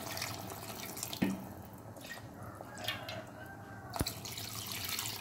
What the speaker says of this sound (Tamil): இப்போ நான் முதல்ல ரெண்டு டம்ளர் தண்ணி ஊற்றிக்கிறேன்.